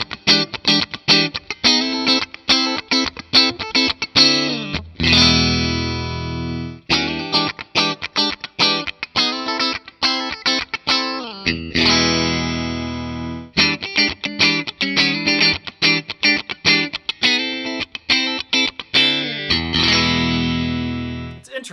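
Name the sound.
Fender American Performer Timber sassafras electric guitar in-between pickup tones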